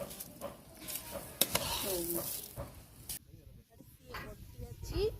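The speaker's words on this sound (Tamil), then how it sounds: "இப்போ நல்லா கிண்டி விட்டுறலாம்" Soaked rice for pulao is stirred in a pot of boiling water over a wood-fired stove, with scraping and bubbling sizzle heard close by in short bursts, and voices talking in the background.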